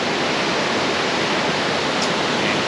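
Roaring waterfall in Kings Canyon National Park, a loud, steady, dense rush of falling water close by, with no talking.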